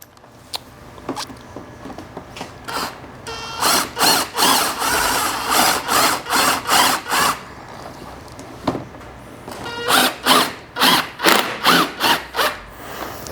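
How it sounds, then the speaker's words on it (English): A power driver sinks self-tapping screws into PVC gate rails on a lattice-top gate, whirring in two rapid series of short, loud, evenly spaced bursts separated by a brief pause. "I'm going to put 2 screws in it."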